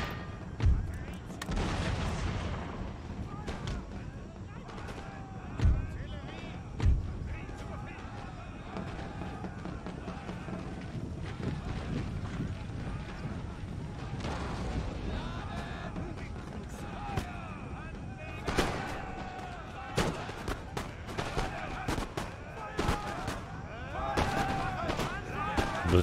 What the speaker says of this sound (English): Platoon firing underway.